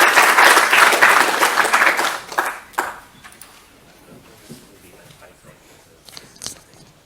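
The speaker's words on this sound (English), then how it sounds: "Give her give her a big applause." Strong audience applause at a neuroscience symposium talk bursts loudly for about two seconds, then tapers into scattered claps and quiet room noise with a few faint final claps.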